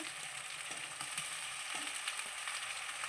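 Masala for chicken curry fries in a pan, heard as a continuous soft sizzle with light clicks and scrapes from stirring, fairly quiet and with no speech.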